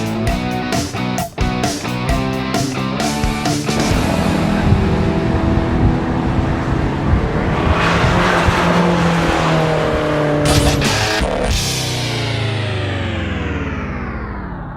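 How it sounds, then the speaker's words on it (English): A 2012 Fiat 500 Abarth is driven hard on a race track, its engine loud and close as it revs up and down through gear changes, rising to a sustained wail before easing off. "Listen to that engine note. It's fantastic."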